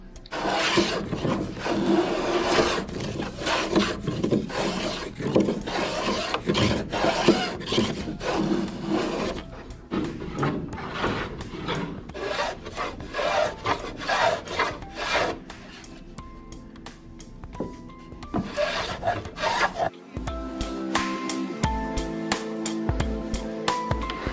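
Repeated rough rasping strokes of hand sanding on a wooden paddleboard, rhythmic and close, followed by a grinding mechanical whir near the end.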